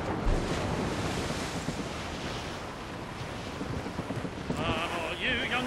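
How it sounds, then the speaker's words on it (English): Wind and crashing waves roar around a sailing ship at sea in stormy weather in Assassin's Creed Rogue, a loud continuous wash with gusting wind noise and a faint tonal sound near the end. "It's windy weather, boys, stormy weather."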